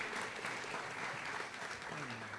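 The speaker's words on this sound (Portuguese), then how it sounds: "Salva de palmas." An audience at a national Economy of Francesco event at PUC-SP claps in a warm round of applause, a dense, steady patter of many hands sustained throughout.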